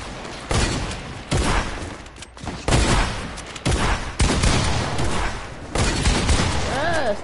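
Gunfire in a sniper-only shooter game mode, a series of loud, close shots spaced roughly every second or so over a dense noisy game background, with some faint voice activity mixed in.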